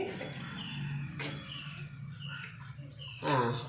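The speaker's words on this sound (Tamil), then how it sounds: "இப்போ தேவையான அளவு தண்ணி ஊற்றி உப்பு செக் பண்ணிக்கோங்க." Water is poured into a pot of Kerala tamarind pepper fish curry, a trickling, splashing pour that swells louder near the end over faint kitchen background noise.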